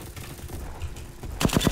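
Gunfire in the Roblox shooter Bad Business: a quiet stretch followed by a sudden loud burst of several rapid, closely spaced shots near the end.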